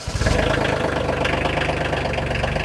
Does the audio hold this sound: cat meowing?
no